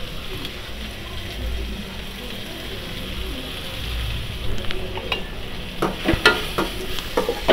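Tomato and pirandai sauté in a pan for a Tamil thuvaiyal, with a low, steady sizzle joined by sharper clinks and scrapes of a spoon stirring in the later seconds, close and moderately loud.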